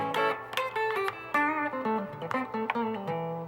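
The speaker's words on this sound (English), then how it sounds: "This is a American Deluxe Fender Strat through a Princeton Reverb" An American Deluxe Fender Stratocaster played clean through a Princeton Reverb clone amp rings out a quick run of bright single notes and short chord stabs, clear and close, with no voices.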